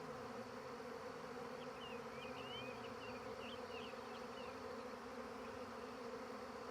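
A bee swarm gathers in a tree outdoors, filling the air with a steady, dense buzz at moderate distance, while faint birdsong chirps above it.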